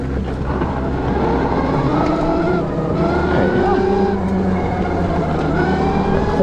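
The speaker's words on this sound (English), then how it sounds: "All right, time to take the XQi3 out for a spin." An NIU XQi3 electric scooter rides off-road on a trail in an unlocked eco mode, its motor whine rising and falling with steady wind rush and rolling rumble throughout, loud and close.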